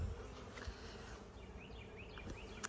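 Honey bees buzz faintly around a beehive, with a low, continuous drone and a few individual insects swooping past nearby.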